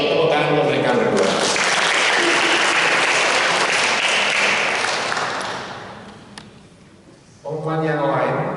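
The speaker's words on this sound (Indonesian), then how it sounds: "So tepuk tangan untuk mereka berdua." Applause in a Catholic church during an Indonesian-language Mass, as a congregation claps steadily for several seconds before it fades out and a voice starts speaking.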